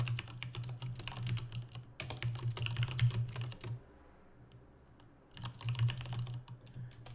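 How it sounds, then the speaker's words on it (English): Rapid clattering keystrokes on a computer keyboard come in quick bursts, close and fairly quiet, with a gap of near silence in the middle before the typing resumes. "Sorry if the typing is really loud."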